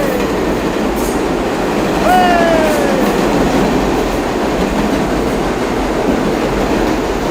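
A New York City Q subway train roars past at close range, loud steady rumble with a brief rising wheel squeal partway through, no speech over it.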